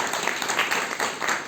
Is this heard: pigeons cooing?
no